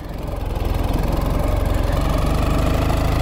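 A kickstarted motorcycle engine catches and settles into a loud, close, steady chugging idle, its rapid even thumping continuing without any talking.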